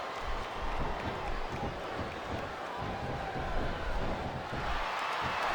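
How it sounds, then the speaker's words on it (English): Wrestling arena crowd noise from the video game SmackDown! vs. RAW 2, a dense, steady roar of cheering and clapping that carries through the whole stretch without a break, with no talk over it. "I love hearing the crowd come alive"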